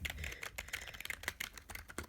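Typing on a Rampage Titan K9 computer keyboard, a quick irregular run of close, crisp key clicks at low volume, with no talk.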